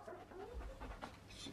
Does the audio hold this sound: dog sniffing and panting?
yes